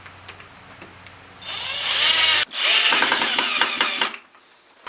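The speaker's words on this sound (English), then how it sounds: "I'm going to pre-tap my holes and preset the screws." A power drill bores pilot holes into wood for screws while building a garden trellis and raised beds, a close, steady whirring burst of about three seconds with a brief stop midway, then quieter handling after.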